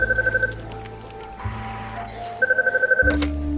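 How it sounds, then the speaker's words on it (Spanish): An office telephone rings with an incoming call, delivering a loud, close, repeated electronic ring in two bursts separated by a pause, with low background hum underneath. "al que vamos a llamar Michael Smith, recibe una llamada de teléfono"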